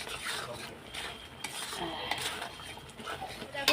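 Spiced curry paste for aloo dum being stirred and sautéed in a pan, with a spoon scraping and clinking against metal in irregular strokes over a low background hiss, fairly close.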